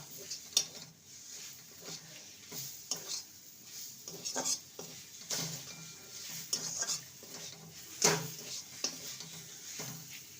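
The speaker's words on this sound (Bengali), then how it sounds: "ভালো করে আবারও নেড়ে নেব" Banana stem and prawn bharta with a little sugar being stirred in a pan over a gas flame: irregular spoon scrapes and metallic clinks against the pan over a faint sizzle, fairly close and unhurried.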